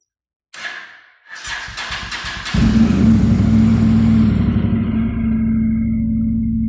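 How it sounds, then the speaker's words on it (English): A Honda NC700X motorcycle engine cranks with a brief starter whir, catches and settles into a steady, loud idle that runs on alone at close range. "we're going to start up the bike just for a few seconds, just to build oil pressure and make sure there aren't any leaks"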